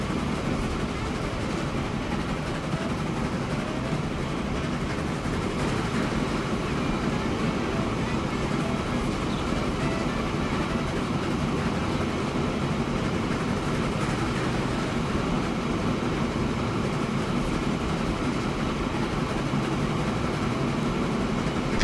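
A Spanish Broadleaf locomotive in the video game Transport Fever 2 rumbles along steadily with a continuous low rolling drone and faint rail clatter, close and unbroken throughout.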